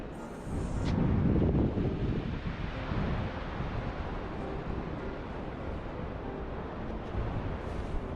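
Cold wind blowing across the open shore at Surfside Beach, Texas, in winter, a steady loud rush buffeting the microphone, strongest in the first two seconds, with surf likely underneath and no talking.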